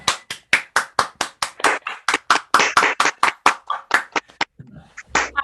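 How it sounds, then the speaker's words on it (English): Applause from a livestream event audience, sounding like one or a few people clapping: a quick, close, evenly paced run of about twenty sharp claps that stops briefly before a final clap. "please, those of you that are not muted, applaud for real"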